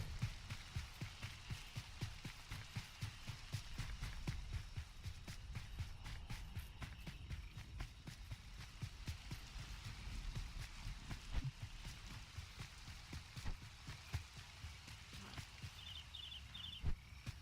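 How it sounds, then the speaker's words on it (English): Steady rain falls in the online role-playing game Rift, a continuous patter of drops with no talking throughout. "it's the first time I've seen it rain in like forever"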